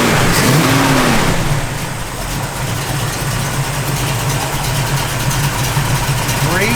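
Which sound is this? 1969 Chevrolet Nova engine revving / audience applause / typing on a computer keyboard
1969 Chevrolet Nova engine revving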